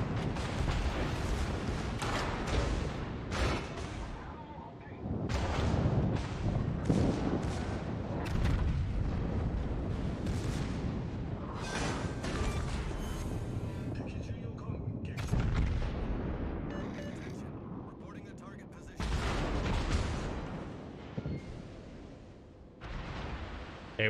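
Heavy naval guns in World of Warships firing armour-piercing shells at a broadside Hindenburg cruiser, loud repeated booming salvos with rumbling battle noise throughout, under intermittent talk.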